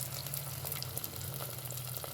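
Green chillies, curry leaves and onions sizzle steadily in hot oil for a sweet potato pulusu, a close, continuous frying hiss with small crackles and no talking.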